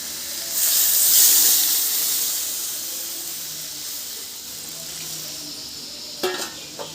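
Water poured onto hot fried spice paste in a pan for a potato and pointed gourd curry erupts in a loud hissing sizzle that slowly fades, then a few clinks of a spoon follow near the end.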